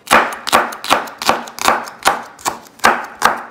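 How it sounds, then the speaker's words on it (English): A knife steadily chops sweet peppers on a cutting board, with about nine evenly spaced, crisp, close knocks and no talk. "I'm gonna chop these up."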